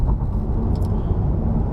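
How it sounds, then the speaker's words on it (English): A 2020 VW Passat R-Line rolls along in coasting mode with its engine idling, heard from inside as a steady low rumble of road and engine noise without changes in pitch. "So the car is just rolling along and the engine is idling."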